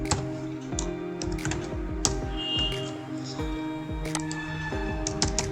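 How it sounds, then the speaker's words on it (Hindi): Close computer keyboard typing, a run of light irregular clicks and key taps lasting several seconds with no talking. "टाइप करुँची"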